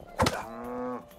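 A cow in the video game Rustler gives a single short, clear moo, rising briefly then holding a steady drawn-out tone before stopping.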